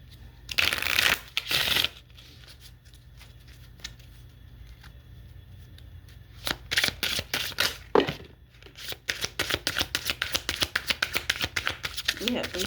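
Oracle cards being shuffled in repeated crisp riffling bursts, with a longer run of rapid rhythmic flicks near the end, and a voice talking quietly in between.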